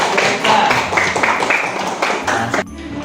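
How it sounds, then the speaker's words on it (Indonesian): A classroom of middle school students claps for a student group, Siti's group, after its answer in a lesson; a short, dense burst of hand claps ends abruptly near the finish, with faint voices mixed in. "Tepuk tangan buat kelompok Siti."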